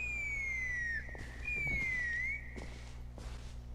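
A character in Genshin Impact whistles, sending out long sliding tones in two drawn-out phrases over a steady low game hum, with soft footstep-like thuds and short noise bursts in between.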